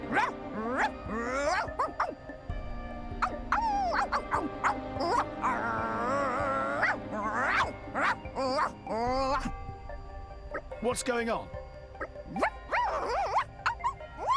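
Poppy, a Xenoblade 2 character in dog mode, yips and barks like a dog in a high synthetic voice imitating a dog, with short spoken exchanges between the barks.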